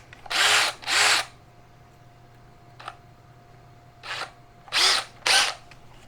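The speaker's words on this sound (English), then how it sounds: "drill myself a pilot hole here" A handheld power drill bores a pilot hole, sounding as two short high-pitched whirring bursts, a brief tap, then two or three more quick bursts close by with quiet gaps between.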